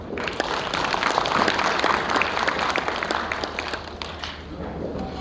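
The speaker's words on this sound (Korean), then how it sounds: "큰 박수로 부탁드립니다" An audience at a press event claps to welcome the mayor, moderate applause from a seated crowd that peaks early and then tapers off gradually, with faint voices underneath.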